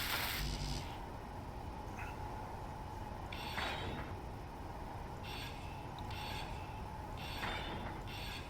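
Welding in Space Engineers gives a continuous mechanical whirring hum with a steady tone, broken by repeated short bright metallic bursts and clicks at irregular intervals, fairly quiet and with no talking.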